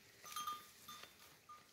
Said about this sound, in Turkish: bak bak koç nasıl boğuruyor